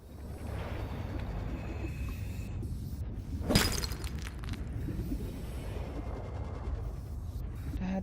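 A crystal shatters in Subnautica 2 with one sharp, bright crack partway through, set against a constant low underwater ambience with no talking.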